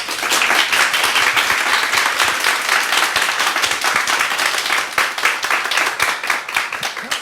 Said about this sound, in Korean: 정말 뜨거운 박수로 우리 환영하도록 하겠습니다.